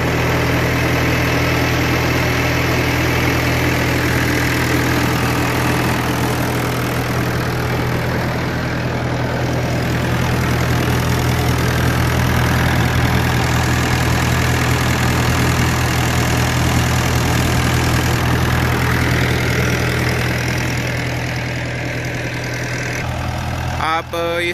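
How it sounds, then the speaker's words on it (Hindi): A tractor PTO-driven generator runs under load from a 10 HP motor, a loud, steady engine drone with a low throbbing hum and rattling vibration throughout, easing slightly near the end. "आप इसकी आवाज़ से ही अंदाज़ा लगा सकते हो 10 HP की मोटर ही कितना इस पर लोड देती है।"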